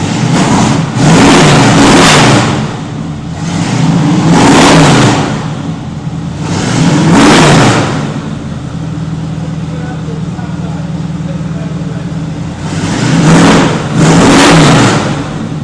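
A Chevelle SS fitted with an electric exhaust cutout, valves open, revs hard in repeated loud bursts with steady rumbling idle between them; people talk over the engine.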